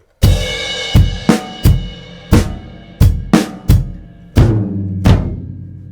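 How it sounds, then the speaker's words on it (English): Drum set played slowly with flams on the middle tom and floor tom, about a dozen sharp resonant hits in an uneven pattern, some doubled, close and alone with decaying boom between strikes. "And then you have 2 flams on 3 and 4 on the toms."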